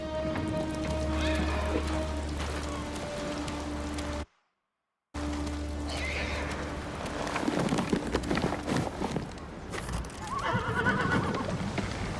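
A horse whinnies loudly amid hoof clip-clops and light rain in the video game Ghost of Tsushima, broken by a short silent gap, then more hoofbeats and another whinny.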